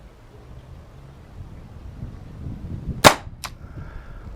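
A single sharp shot from an Umarex TPM1 pistol into a butternut squash, one loud crack with a brief second knock just after, set against quiet room noise.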